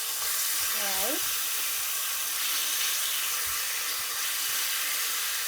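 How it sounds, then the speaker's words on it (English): Bacon sizzling in a skillet for a BLT, a loud, dense hiss of frying fat that fills the whole stretch, with a brief voice-like chirp near the start. "You can hear that bacon sizzling away nicely."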